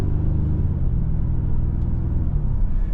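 A 2025 Hyundai Sonata N-Line whips around a sharp turn, its engine giving a steady, loud low rumble close by that holds without a break and has no voices over it.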